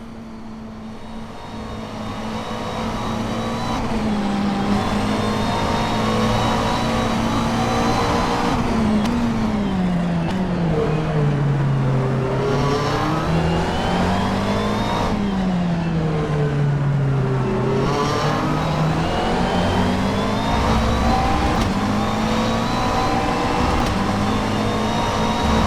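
McLaren 650S GT3 race car engine lapping Silverstone in rFactor 2, a loud continuous engine note rising and falling through gear changes and revs, with no talking over it.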